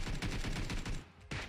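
Sustained automatic gunfire in PUBG Mobile on the Sanhok map, a fast stream of close shots that briefly breaks off, then a final loud report.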